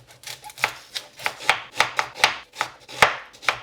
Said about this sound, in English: So all I'm going to do is chop everything up roughly.